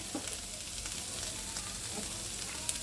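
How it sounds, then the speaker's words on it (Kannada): Ingredients fry in a pan on the stove, giving a continuous close hiss and crackle with a few faint stirring scrapes and no voices. "ಸ್ವಲ್ಪ ಇದು ಫ್ರೈ ಆದರೆ ಸಾಕು."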